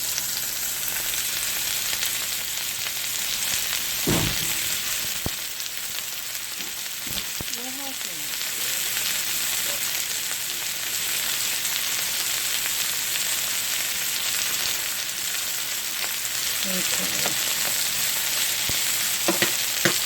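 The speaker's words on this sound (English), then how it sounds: "Right there is my boiling water for my noodles." A steady hiss and crackle of a pot of water boiling for noodles, bubbling continuously, close and even throughout, with a few faint clinks and no voices.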